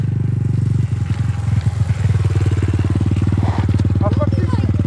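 Motorcycle engine running steadily and loud throughout, with a brief throttle change near the start, while people talk over it.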